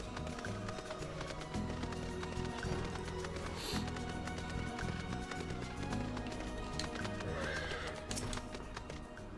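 A horse in Final Fantasy XIV gallops with rhythmic clip-clop hoofbeats throughout, neighing loudly over the steady running, with no talking.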